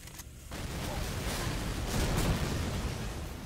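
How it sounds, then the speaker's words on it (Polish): Continuous heavy blasts and rumbling gunfire from the WWII shooter Medal of Honor: Allied Assault during the destruction of an enemy fort, a dense, loud wall of explosive noise building from a sharp start and running throughout. "Ale wybuchy pewnie mnie zagłusza."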